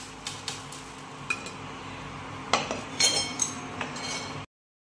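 Roasted peanuts tipped from a pan onto a plate for samosa filling, giving a scatter of light clinks and rattles with a few sharper metallic knocks, close and moderately quiet, ending in abrupt silence.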